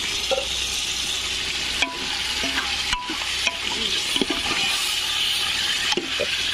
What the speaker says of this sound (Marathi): आपलं चिकन फ्राय झालेलं आहे